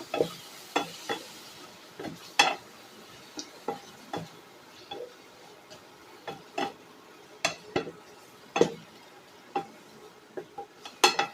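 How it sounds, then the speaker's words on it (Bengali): Chicken masala spice paste with tomato is stirred and fried in a pan, giving a quiet low sizzle under repeated sharp scrapes and clacks of a spoon on metal in an irregular rhythm, close by, with no one speaking. "মশলাটাকে এবার ভালো করে কষিয়ে নেব"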